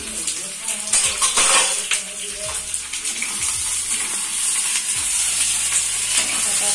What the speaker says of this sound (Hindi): प्याज फ्राई कर लेते हैं